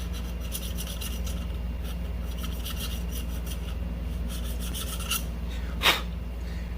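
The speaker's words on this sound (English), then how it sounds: "you can do it with the smooth edge needle file just as easy" Needle file rasping Cerakote coating off an IMI Jericho 941 E pistol frame, a steady close scraping that runs throughout with a brief sharper scrape near the end, no voices.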